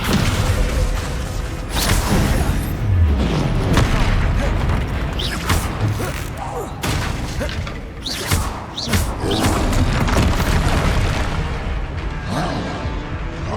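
Descendo spell slams in a Harry Potter video game land as heavy booms and thuds, repeated hits layered over dense game effects and music, fairly loud throughout.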